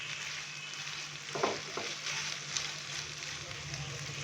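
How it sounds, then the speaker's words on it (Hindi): Chicken and vegetables frying together in a pan for chicken shashlik, a faint, steady sizzle with a couple of brief scraping stir sounds near the middle. "सब्जियों के साथ हम इसको मज़ीद 1 मिनट के लिए फ्राई कर लेंगे"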